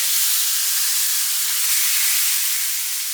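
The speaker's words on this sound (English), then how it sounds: "I'm just gonna go ahead and cook up my ground beef" Ground beef cooking in a pan gives a steady, dense sizzling hiss that holds evenly for the whole stretch, close and fairly loud, with no voices.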